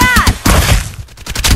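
Gunfire in the battle-royale shooter Farlight 84, a quick burst of loud close shots with heavy thumps, followed by a short lull and a few more sharp reports.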